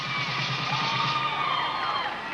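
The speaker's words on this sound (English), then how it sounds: "The crowd energized on all of them. Hear a lot of roaring in the background." Arena crowd at an NCAA gymnastics meet roars and cheers steadily, a dense wash of voices, loud and continuous, with whoops rising from the mass.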